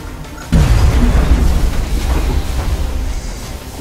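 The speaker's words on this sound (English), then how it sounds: "Nice grenade throw here." Grenade blast in the strategy game XCOM Enemy Within: one sudden loud boom with a deep low rumble that rolls on and slowly fades over several seconds.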